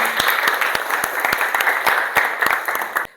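A classroom of students bursts into brisk, sustained hand clapping, with sharp, irregular claps forming a dense patter for a few seconds before trailing off.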